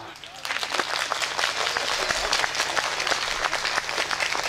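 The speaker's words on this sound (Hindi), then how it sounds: "और एक टिप्पणी पर आपकी तालियां उठें" Audience members at a Hindi comic poetry gathering break into applause after a quieter opening, a strong burst of many hands clapping with distinct sharp claps standing out, continuing loudly to the end under a low steady hum.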